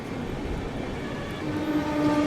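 A Pune–Danapur train hauled by a WAG9 locomotive rumbles past at close range, a steady loud roar of wheels and wagons that swells slightly toward the end, with a faint tonal horn-like whine creeping in.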